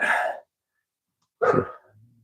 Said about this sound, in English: It's my rough collie out there barking at, I think, anything that moves